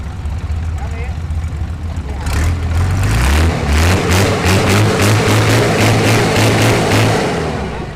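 A Hino W06D six-cylinder truck engine runs loud and close, idling steadily before revving up into a rough, pulsing rhythm that holds and then eases off.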